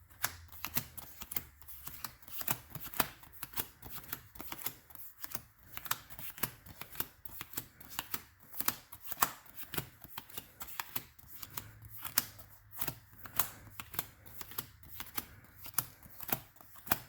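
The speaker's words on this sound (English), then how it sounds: "Let's do a good hard shuffle." A deck of playing cards given a hard shuffle, a rapid series of crisp riffling and snapping bursts repeating in quick rhythm, close and alone without talk.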